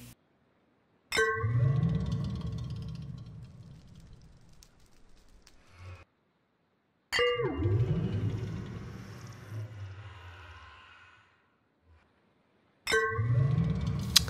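A Minecraft respawn anchor being charged: three bursts of a sharp metallic clang followed by a swelling, rumbling whoosh that fades out, separated by brief silences.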